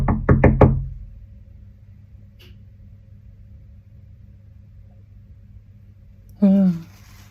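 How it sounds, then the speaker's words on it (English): A rapid cluster of four loud knocks at the start, then a low steady hum, with a brief voice near the end. "Why are you knocking?"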